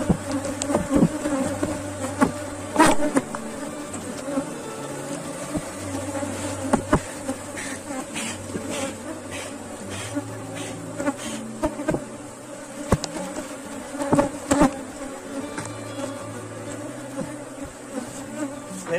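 A swarm of honey bees buzzing loudly around a wooden hive box at an apiary, a dense continuous drone with individual bees whizzing close past, and occasional sharp knocks against the box, with no talking.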